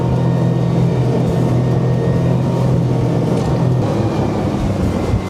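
A new Suzuki 40 EVO outboard motor drives a small boat at full throttle, a loud, steady engine drone blended with rushing water and wind buffeting the microphone, with no talking.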